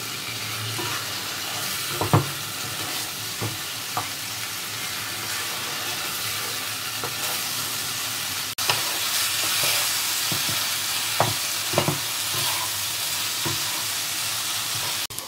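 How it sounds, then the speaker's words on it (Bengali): Chicken sizzles and fries steadily in oil in a pan for Bengali chicken ghanto, with occasional louder scrapes and stirs of a spatula over the constant close hiss. "এটা আমি তেল ছাড়া পর্যন্ত কষতে থাকবো।"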